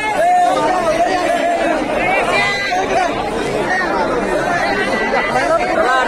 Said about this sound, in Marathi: एवढी गर्दी आहे